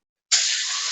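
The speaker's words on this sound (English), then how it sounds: "Spray the pan." A single spray of cooking oil onto a pan, a sudden close hiss that starts abruptly and holds steady to the end.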